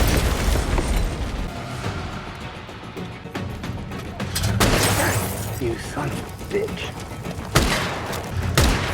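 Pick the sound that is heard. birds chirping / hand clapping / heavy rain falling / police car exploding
police car exploding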